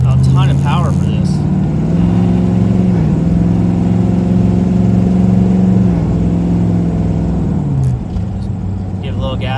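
A 1996 Chevrolet Impala SS with a swapped 5.3-liter Gen V V8 revs up loudly nearby, holding a steady drone with two blips of throttle before it settles back down near the end.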